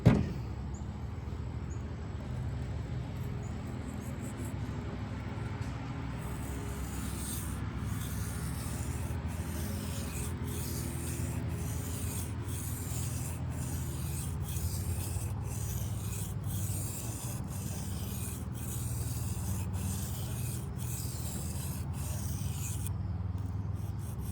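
A Kershaw Hotwire knife blade is drawn across a sharpening stone in a steady run of rasping strokes, close and continuous with a regular rhythm, and no voice over it.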